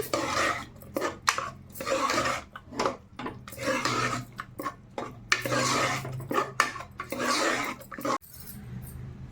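A ladle stirs cooked dal in a pot for Andhra pappu charu, making repeated scraping and clinking strokes in an uneven rhythm, close by, with no talking.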